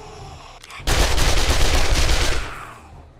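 Rapid automatic gunfire at a bike in the zombie survival game 7 Days to Die: a loud, dense burst of shots rattling continuously for about a second and a half, then fading away.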